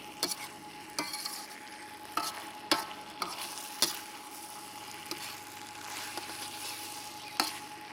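Pork and baby bok choy fry in a hot pan with a constant soft sizzle, broken by repeated sharp scrapes and clatters of a utensil stirring the food.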